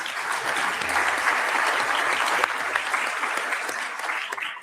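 Conference audience clapping for speakers at an AI, security and ethics event, a dense, steady round of applause from many hands sustained throughout.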